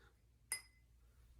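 A glass is struck once with a quick, faint clink, then rings on with a thin, high sustained tone that fades over a fraction of a second against quiet room noise.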